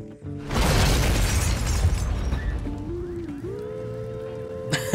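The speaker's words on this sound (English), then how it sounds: "Did not expect explosion." A loud booming blast with a roaring rush of debris that slowly fades, followed by rising mechanical whines and a sharp crash at the end.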